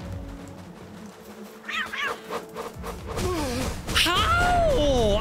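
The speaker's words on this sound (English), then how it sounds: "These f***ing cats, man." Cat creatures in the video game Palworld meow repeatedly in wavering, rising and falling cries that grow louder and overlap toward the end, mixed with breathy gasps.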